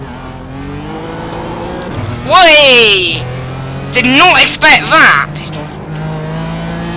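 GT4 race cars in a racing video game at Laguna Seca, with a BMW and an Audi in the field, roar past with rising and falling engine whines in two bursts, loud under steady engine drone while someone talks over them.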